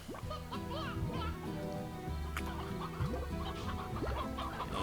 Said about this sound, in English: And another chicken I can't pick up.